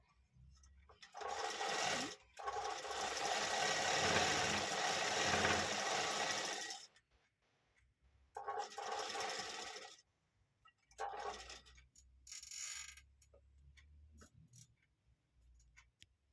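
A computer embroidery machine stitches a hollow sleeve design in long bursts of fast, rattling needle action, separated by short quiet pauses and a few softer stop-start runs.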